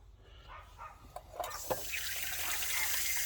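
Water from a kitchen sink tap starts after a few faint clicks and knocks, then runs in a steady, fairly close rush that grows fuller and continues to the end.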